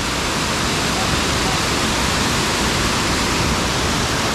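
The Amiyakhum waterfall in the remote Bandarban hills roars as a constant, loud, dense rush of falling water that stays even from start to finish.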